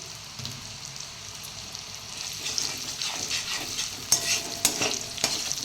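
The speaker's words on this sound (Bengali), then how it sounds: "এটাকে একটুখানি লাল লাল করে ভাজবো" Soft sizzling of ginger and garlic frying in a pan, with a spatula scraping and clicking in irregular strokes, growing more active toward the end.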